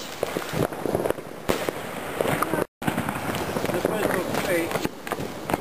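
Consumer firework rockets from a Trippel Jackpot pack go off outdoors in a run of sharp bursts and crackles, with people talking and exclaiming over the noise.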